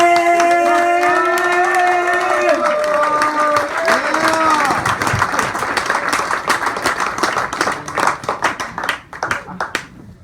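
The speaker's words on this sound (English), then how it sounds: "how about a big, big round of applause for Charlie Quaintance" Applause and some cheering from the audience at a stand-up comedy show in Milwaukee, with a tonal note and voices near the start and dense clapping that thins out toward the end.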